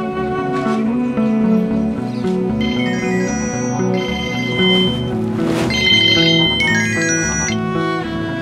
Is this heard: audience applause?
no